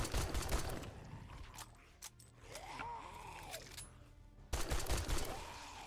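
Rapid bursts of gunfire in the survival video game 7 Days to Die, clustered shots at the start and again near the end, fairly crisp and close, with quieter mechanical clicks between volleys.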